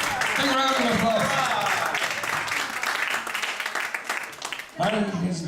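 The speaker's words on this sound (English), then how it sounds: "Big round of applause" An audience at a live Irish and Scottish music show breaks into sustained applause, dense clapping filling the room while someone talks over it, briefly dipping before a fresh burst.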